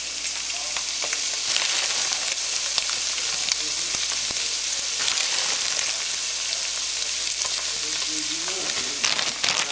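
Ground meat for shepherd's pie fries in a pan with peas just added, giving a steady close sizzle throughout with a few soft stirring scrapes and clicks.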